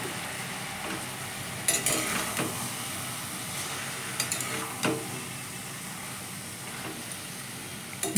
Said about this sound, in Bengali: এবার কেটে রাখা বাঁধাকপিগুলো দিয়ে দেওয়া হলো